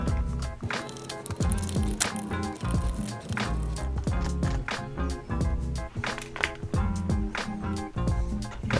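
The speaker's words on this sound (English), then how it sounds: "Next, we're going to unscrew the screws on the left side." Small screws being unscrewed from the left side of Marshall Major III headphones, a dense series of close, scratchy ticks and clicks from the screwdriver turning against plastic and metal.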